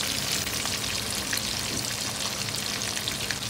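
Fish marinated with salt, turmeric and chili powder frying in a pan over high flame makes a dense, continuous hiss of sizzling oil, close and steady, with no voices.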